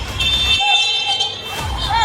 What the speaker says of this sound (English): the buzzer is sounding